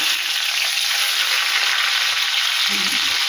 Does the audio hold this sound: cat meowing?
no